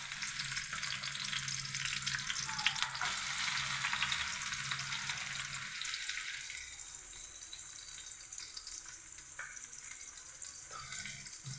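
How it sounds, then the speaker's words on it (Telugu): Onions deep-frying in oil in a home kitchen, a steady close sizzle with occasional stirring scrapes, louder at first and easing slightly, without any voices. "ఆనియన్ బాగా ఫ్రై చేసుకుని"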